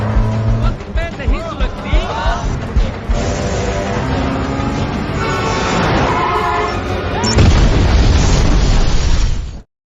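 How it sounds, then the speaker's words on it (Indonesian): A car bomb detonates in a military convoy in the action film Fighter, a sudden heavy blast among roaring engine and vehicle noise, with someone narrating over the top. "bom itu pun meledak"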